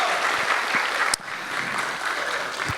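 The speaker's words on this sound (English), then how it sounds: "So let's give them a round of applause as well." Audience applause at an awards ceremony, steady dense clapping from a crowd with a brief dip partway, then continuing at an even level.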